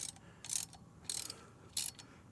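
Ratchet wrench tightening to press a wheel stud into a Jeep TJ hub, three short bursts of quick clicking separated by pauses, close and fairly quiet.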